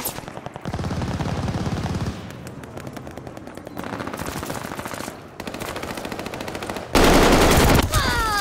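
Gunfire in the online shooter Call of Duty Vanguard, loud rapid bursts of machine-gun and rifle fire in several separate stretches, ending in a heavier blast of shots, with game effects around them.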